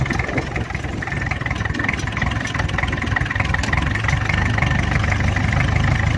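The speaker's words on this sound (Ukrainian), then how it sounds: "тримай його на холостих теж" A homemade tractor engine idles steadily and loudly up close, a constant low rumble with no voices over it.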